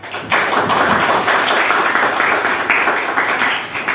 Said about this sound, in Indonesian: Tepuk tangan buat Dimas.